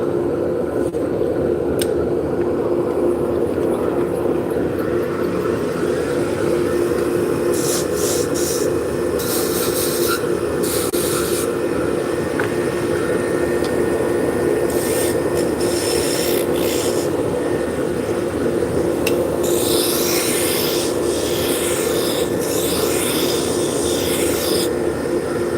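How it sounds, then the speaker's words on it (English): Wire pressed against spinning wood on a lathe to burn in lines, a steady loud friction hiss and rasp over the constant motor hum, with intermittent brighter scraping bursts, close and uninterrupted. "So we're just burning in some lines with this piece of wire."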